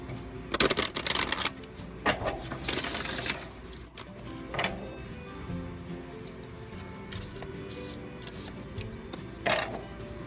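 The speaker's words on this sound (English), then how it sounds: "I'm going to shuffle a deck" An oracle card deck is shuffled by hand in two quick riffling bursts near the start, then scattered lighter taps and card handling, close and fairly quiet, without talk.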